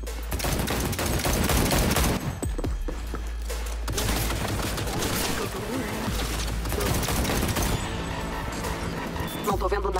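Gunfire shootout in Cyberpunk 2077 on PlayStation 5: dense, loud rattling bursts of shots run almost continuously with short gaps, layered over a heavy low rumble, with game dialogue mixed in.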